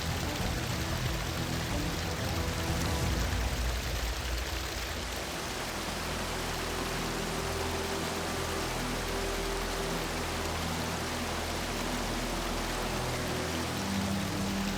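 A muddy river rushes in a dense, unbroken wash of water noise, loud and steady throughout with a slight shift in tone midway.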